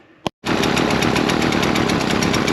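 A Husqvarna 128LD string trimmer engine that only runs with the choke on starts after a brief silence and then runs steadily at a high, buzzing two-stroke pitch, loud and close with no talking.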